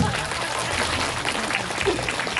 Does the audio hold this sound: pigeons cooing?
no